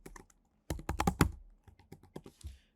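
Someone types a password on a computer keyboard: a quick burst of close keystrokes, a short pause, then scattered softer taps and a final few presses, with no voice.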